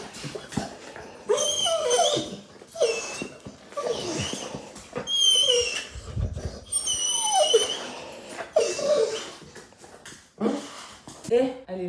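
A dog whimpers and yips again and again in short, high, excited whines, close and fairly loud, while someone talks around it.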